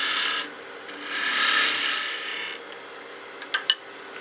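A skew chisel cuts a wooden gnome Christmas ornament spinning on a lathe, producing a loud, close hissing scrape that swells and fades, then a couple of light taps at the end.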